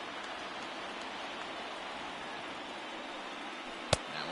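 Steady heavy rain falls over the field in a Cubs versus Boston World Series baseball video game, heard as a constant close hiss with a single sharp click near the end.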